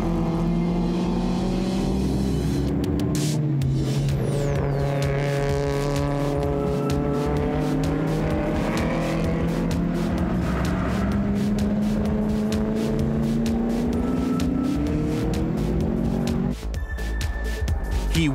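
A Chevrolet Nova race car drives hard around a track, its engine droning and rising through gear changes with sharp revving, sustained and loud throughout.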